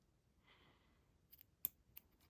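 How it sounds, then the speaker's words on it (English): Scissors snip through elastic bracelet cord during beaded bracelet making at home, giving a quiet, close, sharp single cut followed by a couple of smaller clicks, with no talking. "Cut my elastic."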